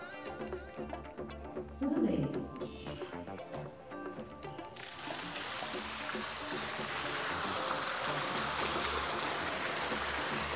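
A decorative water cascade in the garden of a mansion switches on partway through, going from quiet music into a loud, steady rush of falling water that carries on to the end.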